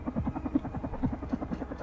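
Helicopter rotor blades spin in the video game Carrion, a steady low rhythmic chopping that thumps continuously and fairly loud, heard alone without talk.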